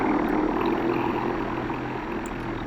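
Aircraft taking off with flaps down, a steady, loud, continuous engine and propeller drone held close throughout, with no talk over it.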